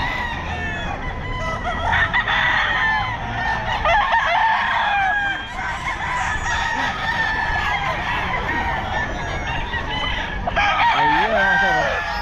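Several sweater gamefowl roosters crow repeatedly and cluck at a busy pet market, loud and close, overlapping one another, with a voice talking intermittently in the background.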